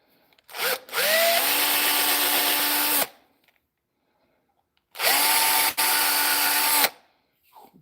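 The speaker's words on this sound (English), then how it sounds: "So how far did I drill?" A power drill bores into punky wood on a woodturning piece in two loud sustained runs, each winding up and spinning down, with a brief quiet gap between them.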